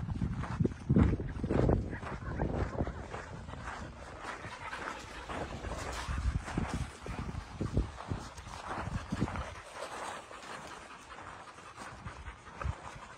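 Shelter dogs, a group of ten newly moved into a new area, give scattered barks, yips and panting close by, with busy bursts early on that thin out toward the end.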